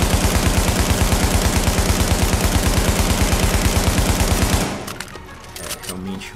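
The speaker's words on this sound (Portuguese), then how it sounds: "Vamos lá descarregar aqui o pente." Midas SMG in The Division fired on full auto until the magazine runs dry, a rapid even stream of loud shots lasting over four seconds before cutting off, followed by quieter handling noises.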